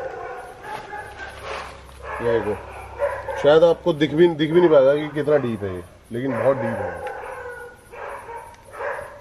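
Dogs bark and howl around the overgrown backyard of an abandoned house in Goa, fairly close and in bursts of drawn-out, wavering cries, mixed with someone talking over them.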